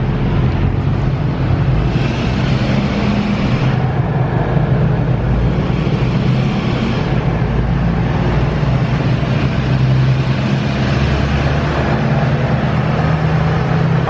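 Steady, loud drone of a Cobra diesel truck engine running continuously on a dyno, with a constant low rumble that holds without any pauses.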